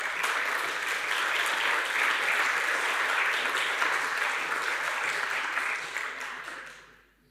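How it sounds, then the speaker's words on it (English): A conference audience at ElixirConf EU claps for a speaker, a full, even round of applause that holds steady and then fades out near the end. "let's give another round of applause for our speaker"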